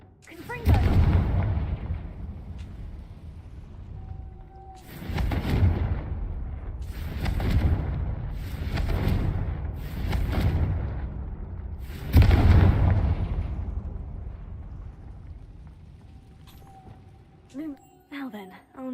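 Confringo blasting spells in Hogwarts Legacy detonate in a series of about six heavy, booming explosions, each a loud burst with a rumbling decay, spaced a second or two apart, with a character voice between them.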